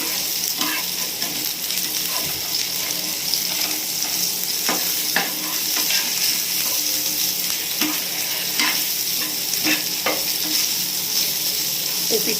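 Pieces of food frying in hot oil in a home kitchen during cooking, a continuous sizzle with occasional sharper crackles and stirring clinks throughout, close and steady, with no speech.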